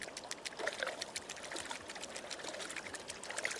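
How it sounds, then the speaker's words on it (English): Icy cold mountain water pours and splashes outdoors in nature, a continuous bright rushing trickle with fine spattering, close and steady with no talk. "It's extremely cold water that comes from mountains."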